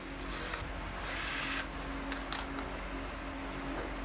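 Screws being fitted while changing the front tire on a ZERO 8 electric scooter: short ratcheting and scraping tool bursts separated by pauses, a few sharp clicks, fairly faint, no talk over it.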